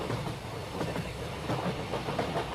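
A passenger train rolls along with a steady rumble and rhythmic clickety-clack of wheels on rails, heard continuously and alone at moderate volume as a sound effect in a horror audio story.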